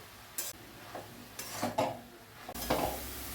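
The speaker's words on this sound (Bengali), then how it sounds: "এখন গাজরটা খুব ভালো করে ভাজতে লাগবে।" Carrot fries with two bay leaves in a pan for gajar halwa, with a faint sizzle under a few loud scraping and clattering stir strokes against the pan.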